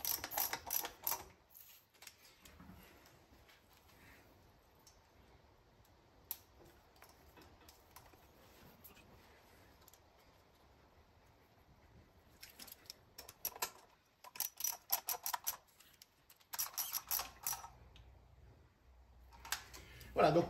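A ratchet runs four nuts back onto an Edelbrock Performer carburetor, giving quick bursts of rapid ticking clicks separated by quiet pauses.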